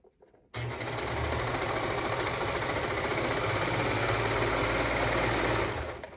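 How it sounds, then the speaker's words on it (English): A sewing machine or serger runs in one continuous, rapid mechanical stitching burst through a fabric face mask pleat, loud and close, starting abruptly and stopping near the end. "I just put it under my sewing machine or serger"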